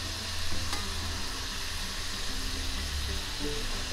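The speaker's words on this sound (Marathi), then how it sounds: "मीडियम गॅसवर सावकाश तळून घ्यायचं" Shankarpali, small Maharashtrian fried dough pieces, sizzling steadily in hot oil over a medium flame while being gently stirred, with a continuous close crackle and a brief scrape early on.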